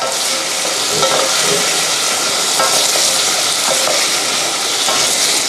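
Curry ingredients for Japanese curry with fried shrimp stir-fried in a pan, a steady close sizzle with faint scraping stirs throughout, no voices.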